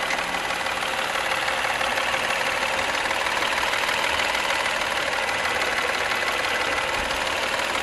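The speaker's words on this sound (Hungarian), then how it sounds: "Hallgassuk meg a benzinmotorunkat itt, ezt az ezres háromhengeres motit" A Citroen C3 with a 1.0-litre three-cylinder PureTech petrol engine runs steadily at idle, a constant close mechanical hum with fine rhythmic ticking, unchanged throughout and with no voices.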